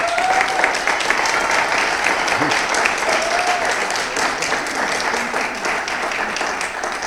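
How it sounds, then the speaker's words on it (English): An audience at a 2022 graduation ceremony applauds a graduating student, sustained dense clapping filling the room for several seconds without a break. "Please give her a round of applause"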